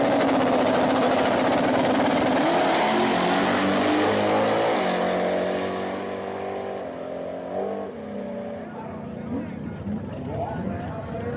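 Drag race pass between a Chevy Nova and a Ford Mustang in a small tire Little Gangster semifinal, loud broadband engine roar from both cars that fades and settles toward the end, with a voice talking over it.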